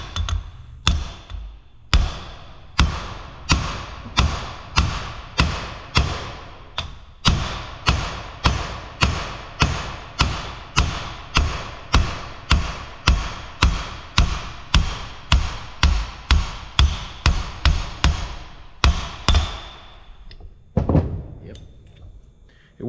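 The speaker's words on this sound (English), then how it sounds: "So let's try the brass hammer" A long series of sharp metallic brass-hammer blows on a 1938 Ford transmission part, struck rapidly and steadily one after another, ringing close by before stopping near the end.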